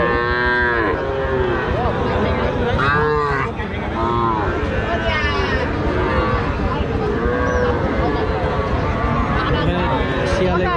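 Calves and young cattle, including Sahiwal and crossbred calves, moo repeatedly at a busy calf market in Joypurhat, with several nearby lowing calls rising over steady crowd chatter and bargaining voices throughout.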